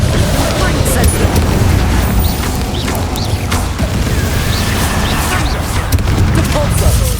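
Incendio fire spell cast in Hogwarts Legacy, heard as repeated bursts and booms within dense, continuous game combat noise, loud and busy throughout with a voice speaking over it.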